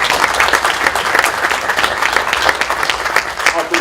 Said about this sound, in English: Will you give him a round of applause,